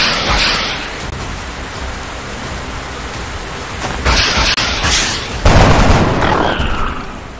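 Gunfire from XCOM: Enemy Unknown, with bursts of noisy, crackling shots that open the sequence, fade under a steady hiss, then return in two loud volleys near the end, with no talking.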